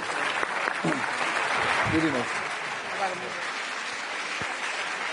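Audience applause for a speaker at a Bled Forum session on EU enlargement, a sustained round of clapping from a hall crowd with a few faint voices mixed in, holding steady and easing slightly toward the end.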